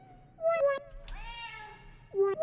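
A slim mackerel tabby Korean shorthair cat with almost no white gives a few short, close meows, then a longer rising one, and ends with another brief meow, all clear and alone.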